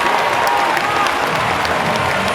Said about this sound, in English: 74-68, and the crowd going berserk.